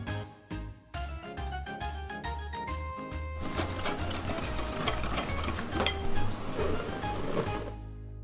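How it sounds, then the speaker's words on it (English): A whisk beats plain flour, salt and sugar together in a bowl, giving a run of close, rapid metallic clinks and scrapes against the bowl that grow busier and denser, with no talk over them. "put the salt and rest of the sugar in with our plain flour, and we're just going to whisk it all together"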